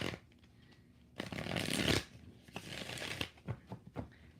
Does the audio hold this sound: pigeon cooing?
no